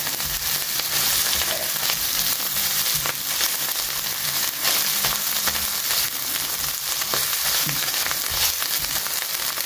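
Freshly grated ginger and garlic fry in a pan, giving a steady, close sizzle that runs unbroken throughout with faint stirring crackles and no talking.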